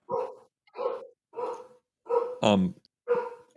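A dog barks in a series of six sharp, evenly spaced barks, close by inside an airplane cabin, with one louder, yelping bark near the end.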